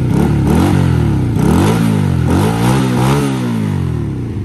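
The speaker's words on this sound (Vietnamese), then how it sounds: "Nó nổ máy, hai máy của nó nổ rất là chất lượng." A 2012 Honda Rebel 150cc twin-cylinder motorcycle runs close by, its engine revving up and down in repeated throttle blips with a rough, clattering mid-range roar throughout and no talk.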